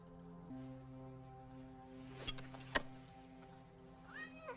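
A cat meows in the 1979 film Alien, heard as drawn-out tonal cries over a quiet soundtrack, with a couple of sharp clicks midway and a rising meow near the end.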